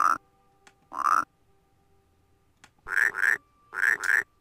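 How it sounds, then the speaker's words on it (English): A frog flute in the video game Rusty Lake Paradise sounds in short croaking notes, first single then in quick pairs, clear and close against near silence. "the frog flute."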